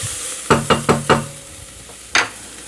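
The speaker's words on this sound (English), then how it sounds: "let's keep our celery and onions moving around." Celery and onions sizzle in a hot pan on medium heat while a utensil scrapes and stirs them, with a quick run of four close stirring knocks followed by one more after a pause over a steady low frying hiss.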